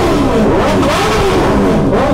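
A modified motorcycle engine revs loudly and roughly up close, a harsh sustained roar with rising and falling pitch.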